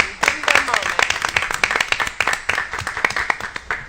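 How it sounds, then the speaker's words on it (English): An audience at a board of education meeting claps together, a dense run of sharp, irregular hand claps close and loud that carries on without a break. "Yes, let's clap."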